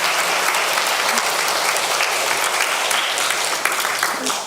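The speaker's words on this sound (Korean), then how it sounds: "우리 하나님 앞에 영광의 박수 좀 한번 올려드립시다." A church congregation claps together during a worship service, a dense, steady burst of applause filling the room for several seconds.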